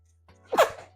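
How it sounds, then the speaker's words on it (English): A single sharp human sneeze, close and loud after a brief intake of breath, over a faint hum. "I have to sneeze."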